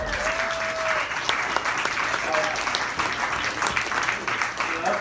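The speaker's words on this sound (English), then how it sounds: "I want to give you a round of applause" An audience at a warehouse house-concert event claps steadily as a performer is called onto the stage, a sustained round of applause with some voices and whoops mixed in underneath.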